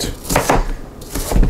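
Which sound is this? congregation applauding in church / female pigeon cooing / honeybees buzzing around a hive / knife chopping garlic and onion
knife chopping garlic and onion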